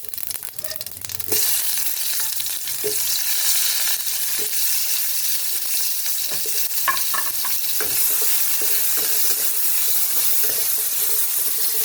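Black mustard seeds and a small dried red chilli sizzle in hot oil while mango pieces go in: a brief quiet start, then a steady, loud frying hiss with scattered pops and stirring clatter, no talk.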